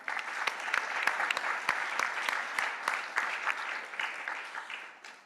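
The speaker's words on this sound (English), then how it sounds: "A round of applause." An audience at a conference session on disaster risk reduction claps steadily for several seconds in a dense run of hand claps that fades toward the end.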